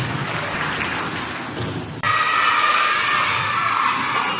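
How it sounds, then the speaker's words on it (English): An audience at a school Children's Day celebration breaks into loud, dense applause that swells after a brief dip and continues steadily. "Give them a big round of applause."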